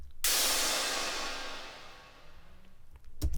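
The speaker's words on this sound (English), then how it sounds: "Kind of sounds like a mixture of white noise and like metal clanking together. Either way, I got it from the Ultrabeat." Atmosphere effect from Ultrabeat in Logic Pro X, a loud burst of white-noise wash that swells in abruptly and slowly fades, with faint metallic clanking ticks near the end and a final hit.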